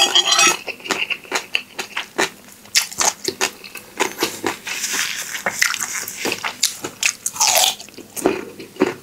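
A pestle pounds and crunches in a mortar while papaya salad is made with cockles. The knocks are sharp and irregular, with clattering and crushing between them. Faint background noise runs underneath.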